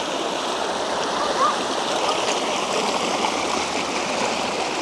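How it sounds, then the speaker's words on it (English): A mountain stream with water flowing straight out of rock along a hiking trail, a steady, close, full rushing and bubbling that holds at an even level without pause. "The water comes out of the rock and starts in the stream."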